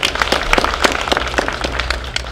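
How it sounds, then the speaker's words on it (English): An audience at a hospital event claps, individual hand claps distinct and somewhat sparse, forming a brief, moderately loud round of applause. "we can clap for PS"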